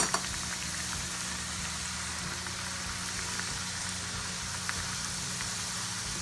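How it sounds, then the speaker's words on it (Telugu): Kajakayalu sweets deep-frying in a pan of oil, giving a steady dense sizzle and crackle that holds evenly from start to finish, close and unaccompanied by speech. "మనము ఫ్రై చేసుకోవాలన్నమాట."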